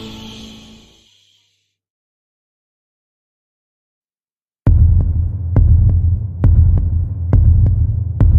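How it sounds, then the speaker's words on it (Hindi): Heartbeat sound effect in a Hindi audio story: after a brief moment of speech and then silence, a deep, throbbing pulse begins, loud and rhythmic with steady beats. "रुद्र की दिल की धड़कनें तेज होने लगती हैं।"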